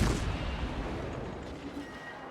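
Guns of the St. Louis warship fire a volley in World of Warships, a loud boom at the start that rolls off into a long fading rumble.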